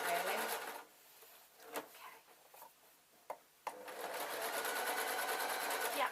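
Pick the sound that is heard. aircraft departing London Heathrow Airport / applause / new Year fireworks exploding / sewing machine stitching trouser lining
sewing machine stitching trouser lining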